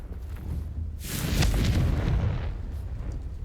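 A Confringo spell explosion in Hogwarts Legacy: a fiery blast that flares into a bright crackling roar with deep rumble, peaks quickly and then slowly fades over a few seconds, loud and close.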